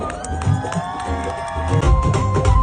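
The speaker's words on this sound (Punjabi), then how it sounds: "ਇੱਕ ਵਾਰੀ ਜ਼ੋਰਦਾਰ ਤਾੜੀ" Crowd cheering and clapping at a live Punjabi stage show with Arjan Dhillon and Rajvir Jawandha, a steady roar of audience noise throughout, with voices in the mix.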